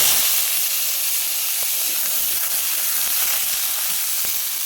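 Radish pieces go into hot oil seasoned with panch phoron, giving a loud, dense, steady sizzle and hiss that fills the whole stretch without pause.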